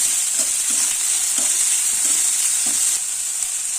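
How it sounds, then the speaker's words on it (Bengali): Chopped ginger, garlic and a large chopped onion fry in hot oil in a pan for bread pakoda filling, a loud steady sizzle with a few soft stirring knocks, close up and without talk. "একটু আদা কুচি, আর একটা বড় সাইজের পেঁয়াজ কুচি দিয়ে এটাকে একটু ভালো করে ভাজতে থাকবো।"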